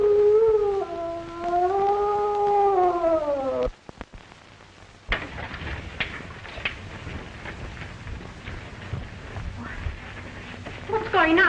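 A drawn-out, wavering moan rises and falls for several seconds from a room, a mournful, howl-like cry that breaks off into near silence before scuffling noise and voices follow.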